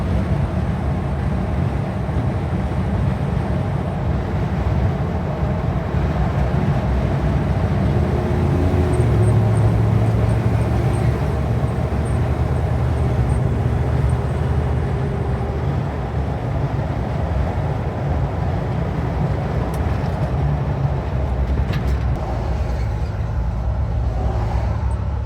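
Chevrolet K5 Blazer engine and exhaust cruising at highway speed around 75 mph, a steady, loud low drone with road rumble that holds evenly throughout, with no talking.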